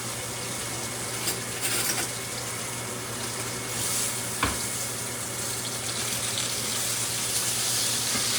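Steak browns in a pan on a gas stove with a steady, close, crackling sizzle that runs continuously, broken by a few sharp pops and scrapes.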